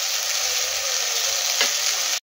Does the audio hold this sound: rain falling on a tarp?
no